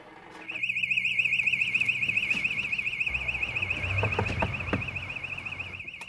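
A security alarm rings continuously with a rapid warbling electronic tone, loud and steady throughout, with a few faint knocks and thuds underneath.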